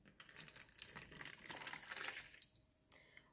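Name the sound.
boiling water being poured into a glass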